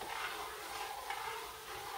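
A spoon stirs grits in a pot on the stove, giving a steady, soft hiss and faint scraping that runs evenly throughout, with no voices.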